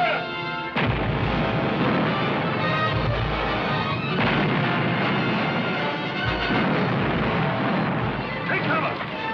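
Ship cannons firing in a 1953 pirate film battle scene, a run of heavy booming blasts one after another, loud and close, with shouted voices mixed into the din.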